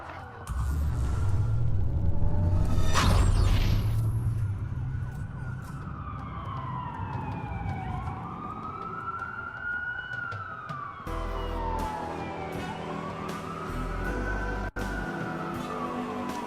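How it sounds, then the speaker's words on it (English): Police sirens in the Watch Dogs video game during a city blackout, several wailing tones sweeping up and down, loud and sustained over a dense rumbling background for the whole stretch. "That's a lot of sirens for a blackout."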